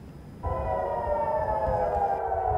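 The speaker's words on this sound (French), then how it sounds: "Des sirènes retentissent dans plusieurs villes d'Israël, comme à Jérusalem, au-dessus de l'esplanade du Rocher." Air raid sirens wail over Israeli cities such as Jerusalem during a missile attack, a loud steady rising tone that swells in after a moment and holds over distant background noise.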